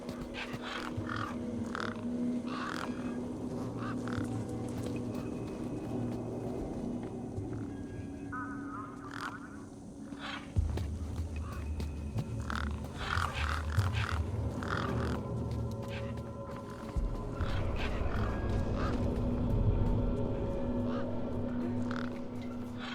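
Crows caw repeatedly over a low droning ambient hum in the video game Beyond a Steel Sky, the harsh calls scattered and fairly close.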